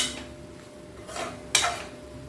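A spoon scrapes and clatters inside a cooking pot as vegetables and masala are stirred together for vegetable rice, with two short bursts of metallic scraping and no talk.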